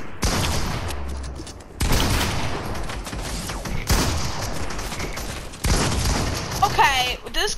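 Video game gunfire in bursts and booming shots, loud and dense across several seconds, with a player talking over parts of it.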